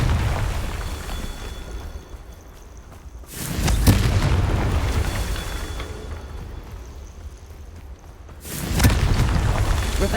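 Two booming blasts from the Confringo fire curse in Hogwarts Legacy, each a sudden loud burst with a rumbling tail, spaced several seconds apart over a low ambient game backdrop.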